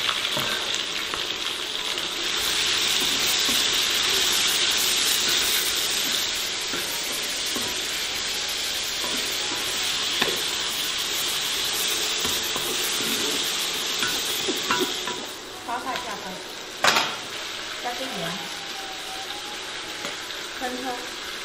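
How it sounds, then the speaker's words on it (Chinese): Sliced carrots and onions stir-fry in hot oil in a home kitchen wok, a loud steady sizzle running close and continuous, with occasional clatters of the spatula toward the end and no talking. "胡萝卜、洋葱下锅炒。"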